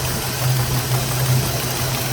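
A Chevrolet Caprice project car idles with a knocking motor, giving a steady low engine drone with a regular rhythmic pulse running through it, close and loud.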